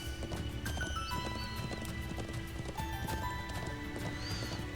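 Horse hooves clip-clop steadily in the Trails into Reverie video game, with a neigh or whinny mixed in among music and game sound effects at a constant, close level.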